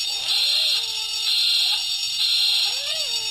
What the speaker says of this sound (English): I'm going to have to get my buzzer out again.